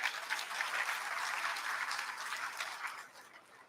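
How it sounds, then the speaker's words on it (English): At a company's anniversary event, a crowd gives a warm round of clapping in appreciation of the corporation, heard as a soft, distant patter of many hands that fades out at the end. "We should really give a clap to GSFC company."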